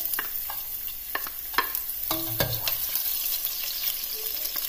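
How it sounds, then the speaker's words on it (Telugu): Chilies frying in hot olive oil give a steady, close sizzle, broken by a few sharp clinks and scrapes as they are stirred in the pan. "ఆయిల్ హీట్ అయిన తర్వాత చిల్లీస్ వేసుకోండి."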